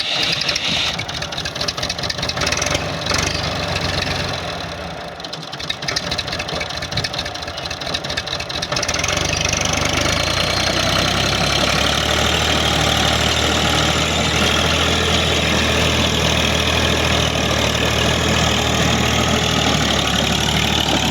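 A small tractor engine runs steadily with a 48-blade rotavator made in Okara, a loud, continuous close drone that grows fuller and heavier about halfway through, with no talk.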